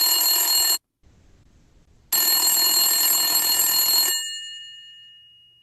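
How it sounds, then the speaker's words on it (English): A cell phone rings unanswered: a bright electronic ring tone sounds for about a second, pauses, rings again for two seconds, then fades away in a lingering tail, with no one speaking. "Let us call him in his cell phone"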